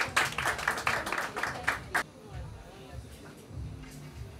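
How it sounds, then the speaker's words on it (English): A dense burst of crowd clapping at a Lagos naming ceremony, loud for about two seconds and then breaking off into quieter room noise with voices. "Oh, come on, please, a round of applause,"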